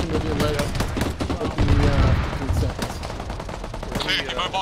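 Gunfire in the military game ArmA, with repeated close rifle and machine-gun bursts in irregular clusters over several seconds, loud and sharp, while players talk over the shooting.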